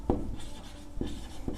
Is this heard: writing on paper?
yes